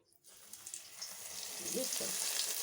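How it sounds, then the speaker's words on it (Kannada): Fish dropped into hot oil in a pan, a soft start swelling into a steady close sizzle and crackle of frying that holds to the end. "ಈಗ ಎಣ್ಣೆ ಕಾಯ್ದಿದೆ ಇಲ್ಲಿ. ನಾನಿವಾಗ ಈ ಮೀನನ್ನು ತಗೊಂಡು ಎಣ್ಣೆಯಲ್ಲಿ"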